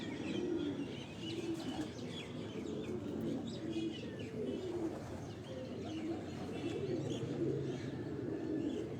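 Migratory pigeons keep up a low, steady cooing with scattered chirps, the calls blending into a continuous, fairly quiet murmur with no clear pauses.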